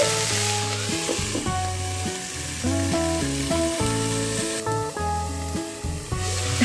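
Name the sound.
broccoli frying in a pan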